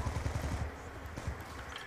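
Automatic weapon fire in Call of Duty on the Nuketown multiplayer map comes as a quick burst of rapid shots, fairly quiet and somewhat muffled, trailing into low rumbling game noise.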